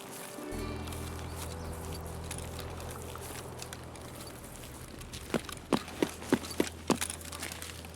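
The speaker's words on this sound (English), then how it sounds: "I hear more footsteps" Footsteps in the video game Escape from Tarkov: a run of about six sharp, evenly spaced steps surfaces over steady ambient rumble, fairly distinct but not loud.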